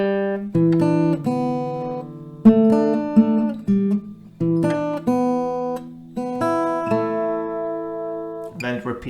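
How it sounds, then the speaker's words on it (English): An acoustic guitar plays the melody over two chords, clear plucked notes and ringing strummed chords in a steady repeating pattern, close and alone. "the melody goes like this over 2 chords."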